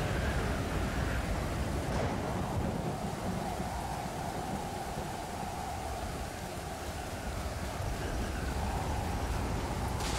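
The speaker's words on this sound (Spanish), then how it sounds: "estaría bien poner el destilador de agua ahora que está lloviendo," Steady rain in the video game Stranded Deep hisses continuously with a soft low rumble underneath, even and unbroken throughout.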